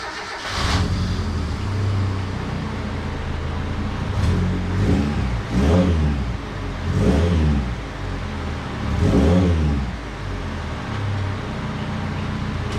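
A 1988 Mazda 323 engine, prone to overheating, idles with a low rumble, then revs up and settles several times in a row, loud and nearby with no talking.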